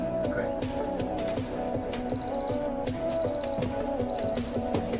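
An alarm clock in a suspense crime film scene rings in three short repeated bursts over a steady musical background, each burst a quick run of high bright tones.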